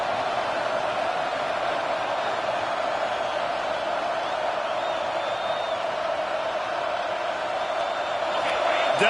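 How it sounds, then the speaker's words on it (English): A college football stadium crowd during the Auburn at Nebraska game, a steady, dense roar that rises slightly at the end as the defense faces third down. "Decibels rising as the crowd gets behind this defense on 3rd down"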